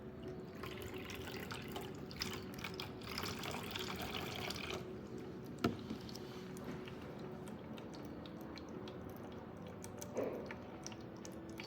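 Water runs and fills a model lung in an anti-smoking classroom experiment, a steady gurgling flow with a few soft drips and splashes and no talking.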